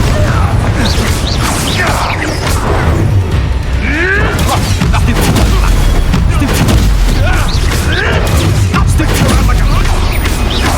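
A Confringo fire spell blast in the Hogwarts Legacy video game, with booming, crashing impacts and whooshes amid a busy, loud battle soundscape of repeated hits throughout.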